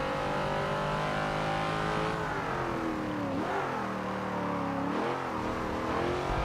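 A race car engine in Forza 7 drones continuously through a cruising lap, its harmonic whine rising and dipping as the gears shift, loud and close with no talk over it.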